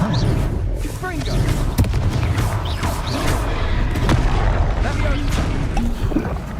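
Confringo explosion spells in the video game Hogwarts Legacy, with booming blasts and crashing impacts under a busy, dense game soundscape, loud and close, while a voice talks over the action.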